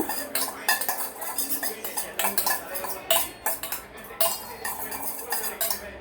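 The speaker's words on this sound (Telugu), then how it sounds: "కొంచెం అంత కొత్తిమీర వేసుకున్నాము ఇప్పుడు ఇది బాగా మిక్స్ చేసుకోము" A metal spoon stirs and scrapes chopped onions and coriander in a steel bowl for an egg omelette, giving quick repeated clinks and scraping strokes up close with no talking.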